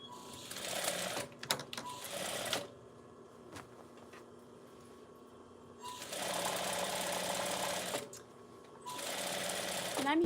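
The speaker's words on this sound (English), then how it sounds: "So now we're going to get sewing." Sewing machine stitching a baby blanket seam with a half-inch seam allowance: steady whirring runs in three bursts with pauses between them, fairly close and clear.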